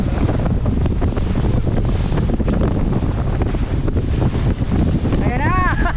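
A small boat out at sea takes hits from waves, with loud, constant wind buffeting the microphone and surging water throughout, and a brief whistling tone near the end.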